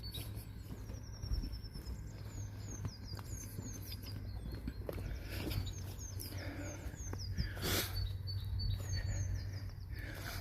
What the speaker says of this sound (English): Yeah, the birds and everything